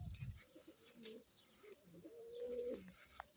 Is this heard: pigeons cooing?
yes